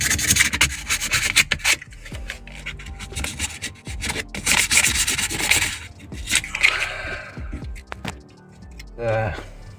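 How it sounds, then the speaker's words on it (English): A car part is sanded by hand, giving repeated close rubbing and scraping strokes in uneven bursts, with short pauses and a brief voice near the end. "Do need to sand it a bit more."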